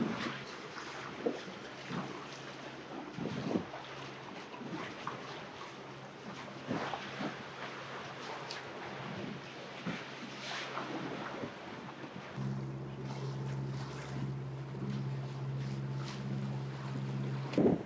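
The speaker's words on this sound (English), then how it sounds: "We're sailing under the Whitestone Bridge right now." A catamaran sails at about ten knots under the Whitestone Bridge, with rushing wind and water noise throughout and a steady low hum joining in the later part.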